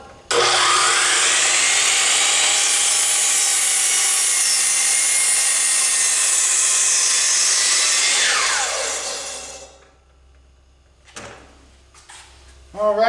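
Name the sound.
saw making a miter cut for a deck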